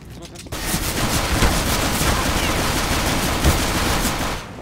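Rapid gunfire in CS:GO on the Overpass map during a competitive match crackles continuously after a short pause, dense overlapping shots with a few louder bursts, loud and close.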